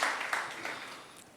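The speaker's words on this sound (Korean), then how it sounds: "여러분 박수 한번 치겠습니다." A lecture audience claps briefly together at a motivational talk, a short dense burst of applause that fades quickly.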